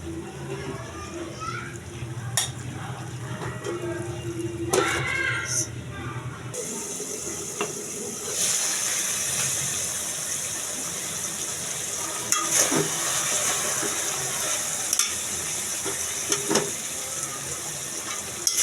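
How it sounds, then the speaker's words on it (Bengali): Pointed gourd cooking with fish in a pan, with a soft sizzle and stirring that gives way to a louder, steady frying hiss midway, while a person talks over it. "এখন সুন্দর করে কষিয়ে নেব।"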